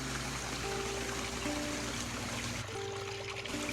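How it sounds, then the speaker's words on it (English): Water gushes steadily from a lifted valve into an aquaponics canal at a tilapia hatchery in Hawaii, a continuous close rushing flow with a faint hum and no voices. "when I lift the valve here, it allows the water to come out in the canal"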